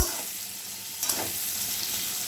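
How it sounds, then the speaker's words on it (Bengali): Pointed gourd (potol) frying in oil in a covered pan over lowered gas, a steady soft sizzle with a brief crackling burst midway, no voices. "পটলটাকে আমি ঢাকা দিয়ে দিয়ে ভাজবো"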